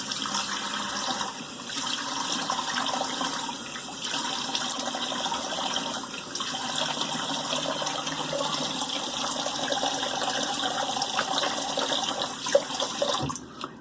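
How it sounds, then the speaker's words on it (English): A bathroom tap runs for a cold water face rinse after shaving, a steady, broadband rush of water that is close and continuous with a few small splashes. "let's do a cold water rinse"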